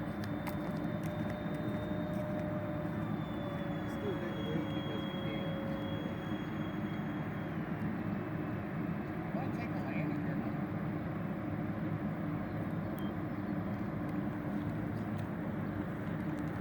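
A Dynam Turbojet 550 RC model jet, a Cessna Citation II replica, flies a sunny-day approach to the runway, its steady, faint whine drifting lower in pitch over constant outdoor background noise.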